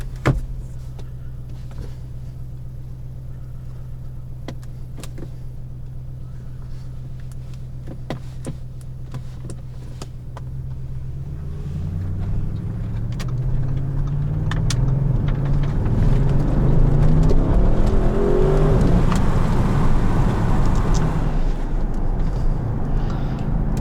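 Audi RS6 Avant C8 engine driving at night with the windows or roof slightly open, a steady low drone that swells louder around the midpoint as the car accelerates, with road and wind noise, no talking.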